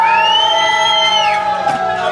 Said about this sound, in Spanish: aplausos para el hombre manos de tijera.